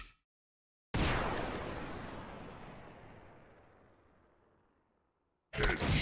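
A single loud gunshot blast in the zombie shooter game Gun Trigger Zombie, decaying slowly over about four seconds into silence, with another sharp burst starting at the very end.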